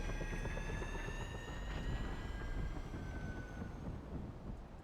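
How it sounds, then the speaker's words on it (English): A jet-engined, helicopter-like aircraft in the video game GTA RP, heard as a steady, faint roar with a high whine that slowly falls in pitch, alone with no voices. "It sounded like some fucking Apache helicopter ship, but with jet engine on it or something."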